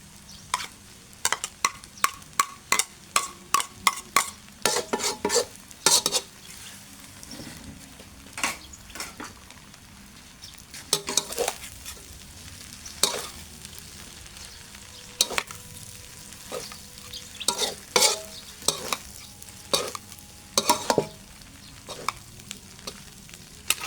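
Glass noodles stir-fried with shredded fried egg in a pan, sharp scraping stir strokes repeating in quick irregular bursts over a steady close sizzle, with short pauses between rounds of stirring.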